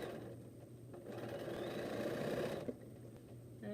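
A domestic sewing machine runs a short back stitch at the end of a quilt border seam, a steady close mechanical whir that rises briefly in speed before stopping.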